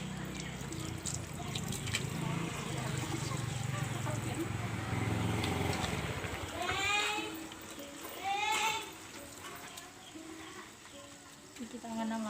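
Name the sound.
washing hands under running water with soap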